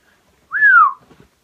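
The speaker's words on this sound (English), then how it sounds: "I've got to stop whistling, that's just weird." A single short whistled note slides downward in pitch, clear and close, in an otherwise quiet moment.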